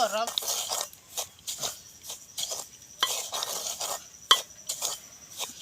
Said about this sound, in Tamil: ரவை என்ன செய்யணும்னா நல்லா வறுக்கணும்